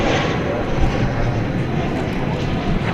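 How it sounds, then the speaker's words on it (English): A Turkish Airlines Boeing 787-9 Dreamliner at DFW Airport at night makes a steady, fairly loud jet engine rumble that holds evenly throughout, with little talk over it. "It's a 7879 Dreamliner, flight 192."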